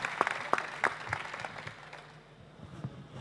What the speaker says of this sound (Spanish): Un aplauso para Javier